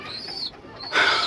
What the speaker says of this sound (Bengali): এই দেখুন পায়রা কতটা ভয় পাচ্ছে দেখুন